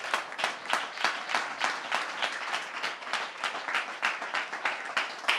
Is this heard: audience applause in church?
yes